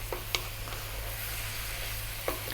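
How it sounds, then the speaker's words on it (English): Spicy chicken, broccoli and chow mein noodles stir-frying over high heat produce a steady faint sizzle with a few soft clicks of tossing, and no talking. "We're going to go now, tossing this around for about 3 more minutes. Stay on the high heat."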